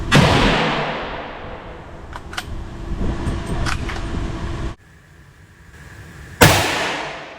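Loud sharp shots from a Lee Enfield rifle at an outdoor range, a heavy blast at the start and another near the end, with fainter distant reports and rumbling between and a brief quiet gap before the last shot.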